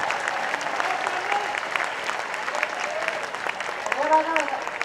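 Audience at a Hindi poetry recital (kavi sammelan) in Bhopal claps steadily through the whole stretch, a dense sustained applause with a voice speaking over it.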